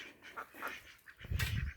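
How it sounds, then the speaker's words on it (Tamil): A few quiet quacks and calls from ducks playing in water in a garden, brief and somewhat distant, ending in a louder burst. "வாத்து பசங்க என்னடா தத்தக்கா புத்துக்கான்னு சவுண்டு கேட்குதுன்னு பார்த்தா இங்கே பாருங்க விளையாண்டுட்டுருக்குறானுங்க"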